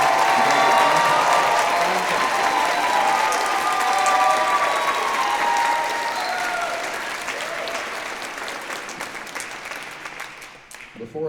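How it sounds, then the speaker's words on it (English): A concert audience gives a big round of applause for high school honor band students, loud dense clapping from a large crowd that holds strong and then gradually thins and fades toward the end. "Can we give them a big round of applause and say thank"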